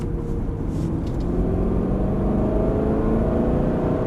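Aston Martin pulling hard at full throttle on a race circuit, a loud continuous engine roar with rising harmonics as revs climb, heard from inside the car.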